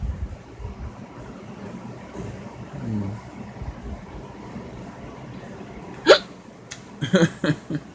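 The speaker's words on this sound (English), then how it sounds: "Hiccups." Several sharp, abrupt hiccups sound close by near the end of a quiet stretch, the first isolated and then a quick cluster of three or four, with faint background noise before them.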